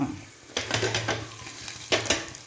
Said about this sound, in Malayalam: ഇഞ്ചിയും വെളുത്തുള്ളിയും ഇട്ട് കൊടുക്കാം.